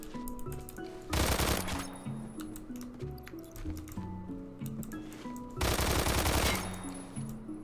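An automatic gun in the video game Phantom Forces fires two loud sustained bursts of rapid shots, one near the start and one near the end, over a background of game music tones.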